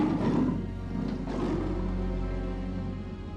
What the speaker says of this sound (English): Their collective roar so loud it silenced the crowd.